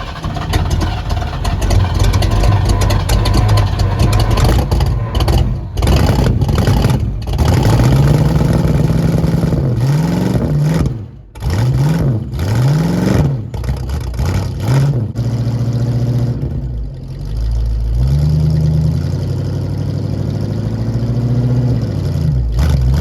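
A 1973 Ford Mustang Fastback, revived after 30 years rotting in a yard, runs loud and close with a rough idle and repeated throttle blips that rise and fall, the engine a little grumpy but steady throughout.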